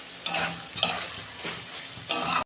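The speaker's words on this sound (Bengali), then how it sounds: "এবার আমি ভালো করে কষাবো যতক্ষণ না ভালোভাবে তেল ছাড়ে" Spices being stir-fried in oil for a soybean curry, with a steady sizzle beneath several sharp scraping strokes of a spatula against the pan.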